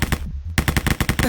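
Rapid automatic gunfire in the shooter game Wolfenstein rattles out in loud, dense bursts with one short pause, close and punchy, with no speech over it.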